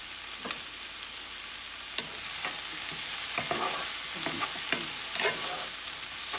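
Beans tossed into chicken chow mein frying in a small pot, a continuous loud sizzle with repeated scraping stir strokes and knocks, close by with no talk.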